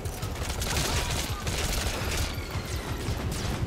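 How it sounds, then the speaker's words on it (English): Rapid, overlapping blasts of mortar fire crash and rumble continuously in Metal Gear Solid V: The Phantom Pain, loud and dense, with barrages thudding close together across the whole stretch and no pause between them. "Can't believe they're using my own freaking mortars."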